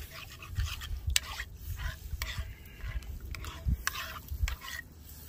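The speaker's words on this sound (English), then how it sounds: "Then we're going to go with 8 ounces of tomato sauce. And then we're going to give this a good mix." Tomato sauce is stirred into homemade chili in a pot, a close wet scraping and sloshing with rhythmic spoon knocks against the pot and a soft simmering hiss.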